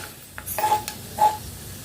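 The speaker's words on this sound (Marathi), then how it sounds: "हे मी आता प्लेटमध्ये काढून घेते" Fried dry fruits are scooped from a pan onto a plate in a few brief clinks and scrapes of a spoon against metal, close and fairly loud, with no speech.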